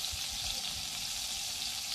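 Grandpa's meatballs fry in a pan as they are flipped, giving a constant close sizzling hiss with soft low knocks underneath for two seconds.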